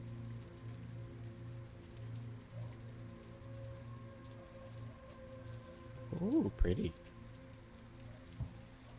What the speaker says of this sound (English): So that's the rain.